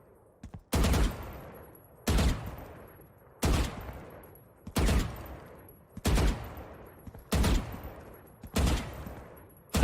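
Gunfire sprays in the Valorant video game: seven evenly spaced, loud bursts of automatic fire, each ringing briefly before the next, with no talking.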